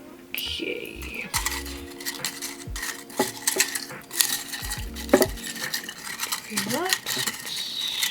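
Small objects clink and rattle as they are stirred inside a crystal bowl, giving close, bright, irregular taps and scrapes with a ringing edge. A voice talks intermittently.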